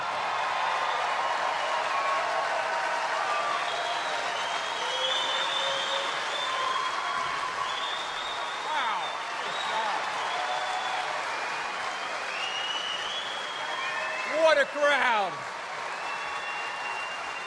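Rally crowd at a campaign event in Cincinnati, Ohio applauding Senator Rob Portman, a steady wash of clapping and cheering throughout with a few whoops and whistles, louder near the end.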